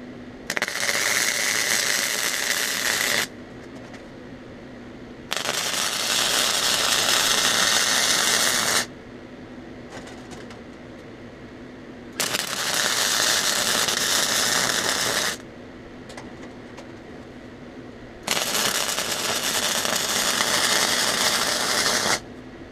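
Welding beads are laid and tied into the base metal on box tubing during fabrication: four long crackling bursts alternate with steadier, quieter hum between them.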